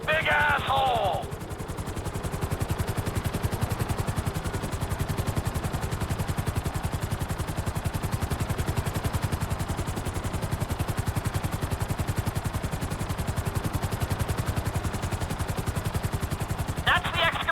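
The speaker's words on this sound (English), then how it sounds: "I need you to hold the chopper above it while I take a look." Helicopter hovering in GTA V, a steady, loud rotor chop pulsing fast and evenly throughout, with brief bursts of other game sounds at the very start and end.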